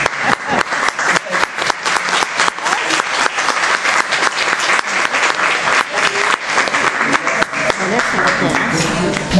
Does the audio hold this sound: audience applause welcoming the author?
yes